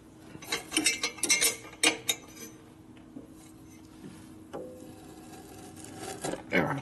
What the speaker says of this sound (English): put a little torque in these bolts here